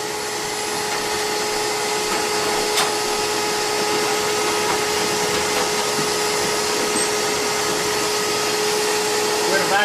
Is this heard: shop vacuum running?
yes